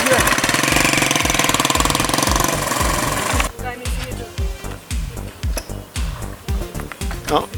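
A 1973 Honda CB 125 motorcycle engine chugs in a fast, steady loud thump, then drops to a rougher, uneven pulsing as the clutch is pulled and the bike is shifted into second gear.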